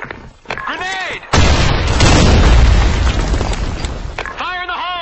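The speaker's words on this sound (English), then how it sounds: "Fire in the hole! Fire in the hole! Grenade!" A grenade blast in a team-based online shooter game, a loud broadband boom with a rumbling tail that lasts several seconds, while shouted voices call out before and after it.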